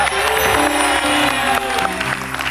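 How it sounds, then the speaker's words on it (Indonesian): A television studio audience applauds a guest, a full, loud wash of clapping and light cheering that fades slightly at the end, with music tones underneath. "Tepuk tangan dong buat Pak Yano nih"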